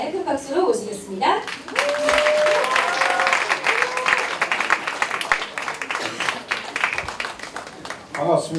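An audience at the opening ceremony of a performing-arts school festival gives warm applause, with a voice speaking over the start and crowd cheers mixed into the steady clapping.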